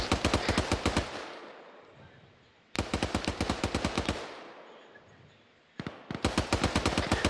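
Sustained machine gun fire in a military video game squad training, three long bursts of rapid, evenly spaced shots, loud and close, each trailing into a fading echo before the next burst begins, with no talk.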